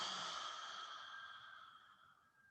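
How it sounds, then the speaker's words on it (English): Big exhales through the mouth during a breathing exercise, a single long breathy whoosh fading out slowly over a couple of seconds, close and quiet with no talk. "Big exhales."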